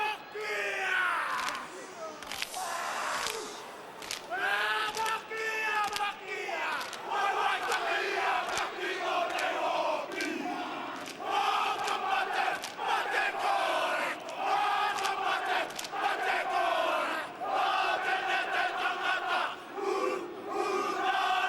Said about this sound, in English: Ruben Wickie will lead the haka for the New Zealanders as they face up the